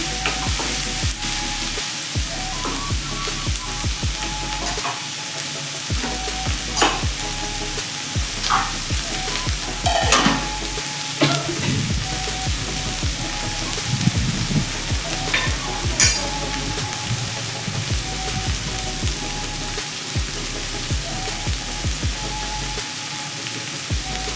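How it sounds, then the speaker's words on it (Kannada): Onions frying in oil in a pan for a horse gram upsaaru, a steady loud sizzle with repeated scraping stirs of a spoon throughout, no voices. "ಡೀಪ್ ಫ್ರೈ ಏನು ಬೇಕಿಲ್ಲ, ಸ್ವಲ್ಪ ಫ್ರೈ ಮಾಡಿಕೊಂಡ್ರೆ ಸಾಕು."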